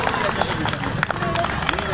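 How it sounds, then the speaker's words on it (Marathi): An audience claps for prize winners at a Bhim Jayanti prize distribution, a short burst of scattered applause mixed with crowd murmur and voices talking over it. "टाळ्यांच्या गजरामध्ये स्वागत करायचं आहे"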